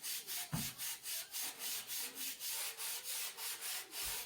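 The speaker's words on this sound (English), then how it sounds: "I'm just going to sand down some of that sharpness of it" A block of wood is sanded by hand in regular back-and-forth strokes, about a dozen even rasping passes at a steady rhythm, close and fairly quiet.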